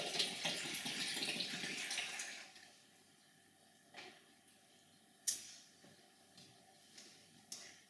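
Coconut water pours in a steady splashing stream into a blender for raw rosehip soup, then stops, followed by a few scattered knocks and clinks nearby.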